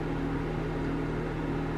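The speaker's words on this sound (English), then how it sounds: "I'll put a cup of these in the microwave for about," A microwave oven heating a cup of frozen vegetables runs with a steady, close mechanical hum and low whir, unchanging throughout with no speech.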